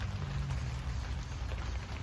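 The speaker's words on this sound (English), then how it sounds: "as you hear with our beautiful greenhouse, it is gorgeously raining" Rain falling steadily on a greenhouse in Florida, a soft continuous patter at low level with no voices.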